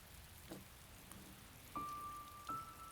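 Soft, steady rain falls on a rainy day, a faint continuous patter with a few light drips and clinks standing out above it.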